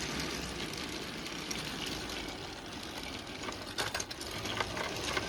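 A motorized Thomas & Friends toy train engine, Gordon with his tender, pulls a string of lightweight cars along track, giving a steady small-motor whir with faint clicking and a few louder rattles near the end.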